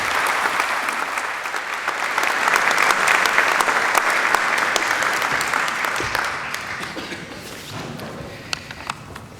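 An audience applauding at a university graduation ceremony as Andrew Forrest steps up to receive an honorary Doctor of Letters, sustained clapping from a large crowd that swells and then gradually thins out.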